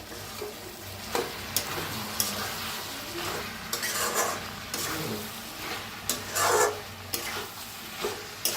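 Cauliflower and potato curry being stirred in a pan, a soft continuous sizzle broken by scraping spoon strokes and a few louder clinks, heard up close with no speech.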